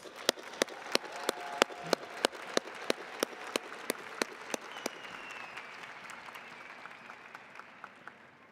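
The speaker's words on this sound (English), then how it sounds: "Give yourselves a round of applause." Graduation ceremony applause with loud, evenly spaced rhythmic claps standing out over a softer crowd clapping, the beat dropping away as the sound fades.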